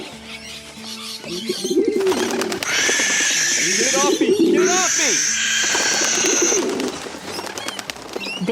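Birds coo and chatter in a bird cafe within a comedic American radio sketch, with warbling calls and bright chirps rising over a busy mix while a voice shouts twice close up.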